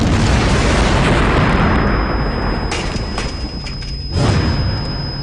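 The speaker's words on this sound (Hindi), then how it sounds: "अचानक एक धमाका" A loud, deep explosion booms and rumbles on, its roar slowly fading with a few later bumps and crackles.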